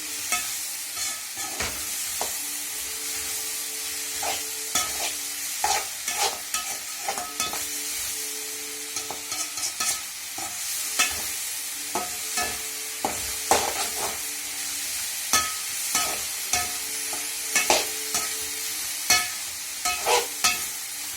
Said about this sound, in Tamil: தக்காளி வெங்காயம் எல்லாம் நல்லா எண்ணெயில் வதங்கணும்.